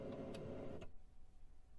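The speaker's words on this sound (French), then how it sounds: "L'imprimante s'allume, puis démarre le processus d'initialisation." An HP Color LaserJet Pro M155/M255 printer powers on and initializes: a steady mechanical whir with two brief higher clicks, then it drops to a quieter motor hum.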